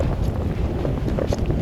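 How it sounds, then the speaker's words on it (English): Strong cold wind on the Lake Michigan shore at a winter hot-tent campsite, a continuous loud roar buffeting the microphone throughout with no voices. "That wind makes it feel like it's in the teens."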